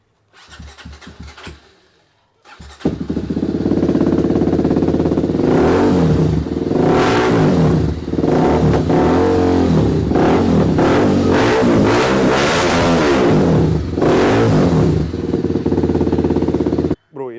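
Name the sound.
TVS Apache RR310 motorcycle started and revved with aftermarket exhaust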